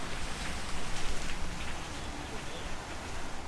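Steady rain falls outdoors on a city street in Sofia, Bulgaria, a loud, continuous hiss of drops on pavement and surfaces with no break.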